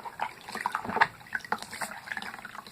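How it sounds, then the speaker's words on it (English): A wet washcloth is worked over a doll's face during a bath, giving close splashy water sounds and light drips with soft wiping, fairly faint and continuous. "Just quickly wash the face."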